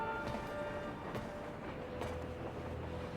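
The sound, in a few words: train rolling along, from video game Crisis Core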